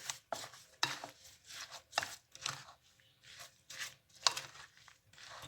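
Fruit chaat being tossed and mixed with chaat masala and sugar in a bowl, a series of close, crisp scraping and tapping strokes in an irregular rhythm with no talking.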